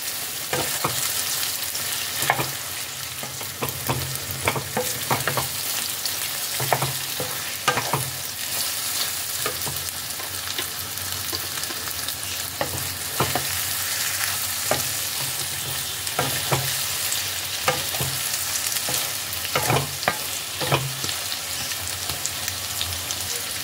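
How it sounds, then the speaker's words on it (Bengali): Eggplant and egg sizzle steadily together in hot oil while a utensil stirs and scrapes the pan in repeated strokes. No one speaks. "ডিম আর বেগুনকে একসাথে করে ভালোভাবে ফ্রাই করে নিতে হবে।"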